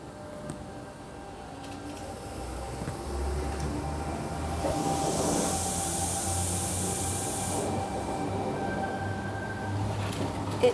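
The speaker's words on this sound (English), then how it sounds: "The train shall shortly depart." A train departs from a platform at Waterfall station with a low, steady rumble and a long burst of air hiss through the middle, heard from nearby on the platform.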